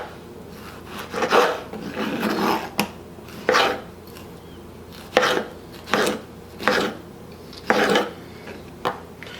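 A knife chops vegetables on a board for a batch of salsa, sounding as quick bursts of close, crisp cutting strokes in an uneven rhythm, each burst separated by short pauses.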